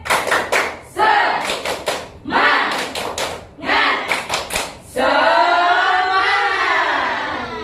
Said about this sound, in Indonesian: Ya semuanya. Tepuk semangat.